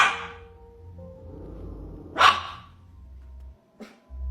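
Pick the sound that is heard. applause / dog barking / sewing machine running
dog barking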